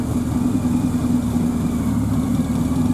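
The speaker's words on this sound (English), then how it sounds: "Engine ticking over." A classic A40 car engine idles steadily nearby, a low even rumble with a constant hum, no talking.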